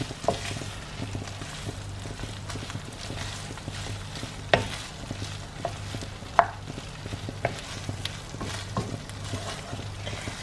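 BBQ chicken, black beans and chives are stirred together in a bowl, giving a soft, continuous scraping with a few sharper utensil clinks over a low background hum.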